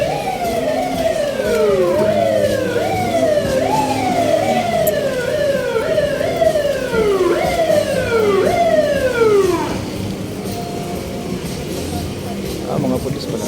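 A police car siren wails in repeated rising and falling sweeps on a busy street in Quiapo, Manila, loud and close for about ten seconds before cutting off, with traffic noise and a few spoken words around it.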